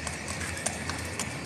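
A King's Guard horse's hooves clip-clop on hard ground in a quick, even rhythm, close and fairly loud, with a voice briefly in the background.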